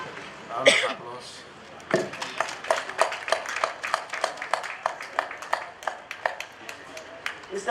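After a brief sound at the start, a small crowd at a prison inmate graduation ceremony in Banjul breaks into clapping, irregular individual claps forming scattered applause that continues to the end.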